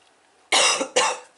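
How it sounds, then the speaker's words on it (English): Two sharp coughs in quick succession, close and fairly loud, with nothing else around them. "I still have my cough that is lingering"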